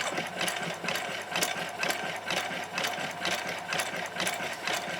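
Sewing machine running steadily while filling a leaf-shaped appliqué on fabric with dense stitching, a continuous close mechanical whirr with rapid needle ticking, no voices.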